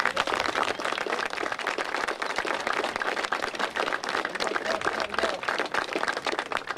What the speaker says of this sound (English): please give a round of applause to Chris Balestra